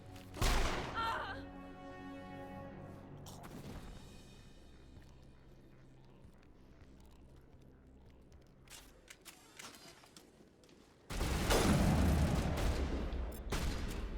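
Gunfire from the Mass Effect Legendary Edition video game, with a loud opening burst, a quieter stretch of low rumble and scattered impacts, then a sustained heavy volley near the end.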